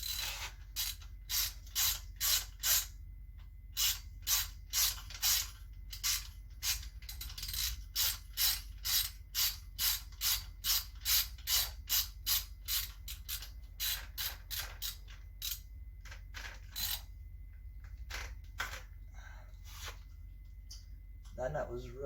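A ratchet wrench clicks in rapid bursts of steady strokes while loosening a stuck, rusted-on nut on a neglected mountain bike being restored. The close, crisp ratcheting repeats for about twenty seconds with short pauses between runs.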